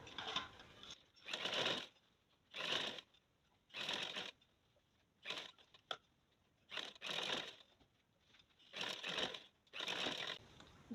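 A sewing machine stitches around the neckline of a shirt, running in short, even bursts of about a second with brief pauses between them, close and clear with no talking.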